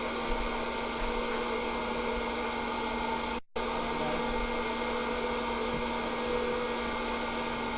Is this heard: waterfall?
no